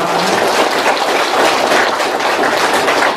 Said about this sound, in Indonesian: Kita tepuk tangan untuk Bapak Ibu